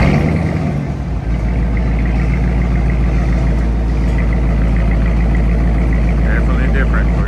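A 2023 Dodge Charger R/T Daytona with a stock exhaust rumbles close by at idle, a steady deep drone with a brief blip partway through.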